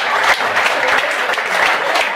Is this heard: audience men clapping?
yes